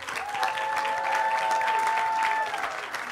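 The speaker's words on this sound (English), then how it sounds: "Let's give them a round of applause." Loud, close applause at a university sociology departmental graduation ceremony, dense steady clapping with a sustained whistle and some cheering above it, tapering slightly at the close.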